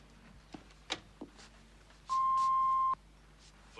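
A single long electronic tone from a home answering machine, steady and clear for nearly a second, following a few faint clicks and small knocks in a quiet room.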